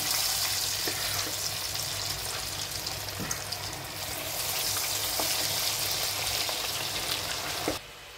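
A second batch of kebab pieces fries in hot oil with a continuous, close sizzle and a few soft knocks, ending abruptly near the close.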